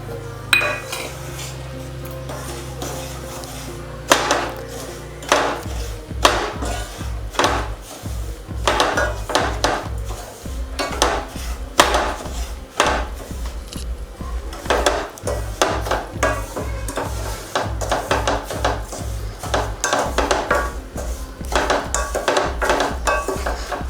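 Semolina is stirred and roasted in ghee in a pan, with a utensil clinking and scraping against the pan in steady repeated strokes, close up, and no talking.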